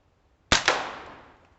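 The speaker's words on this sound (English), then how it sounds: "I'm going to shoot the base waterline of that tree over there" A single sharp shot from an AR15 Sporter II air rifle fired outdoors, a crisp crack with a quick second report and a short decaying tail, loud and close with no talking.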